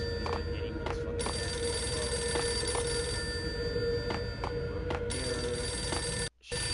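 A telephone rings repeatedly in the video game Max Payne, electronic bell bursts in a steady rhythm over a low background hum, loud and close.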